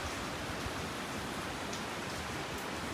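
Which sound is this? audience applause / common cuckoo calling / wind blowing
wind blowing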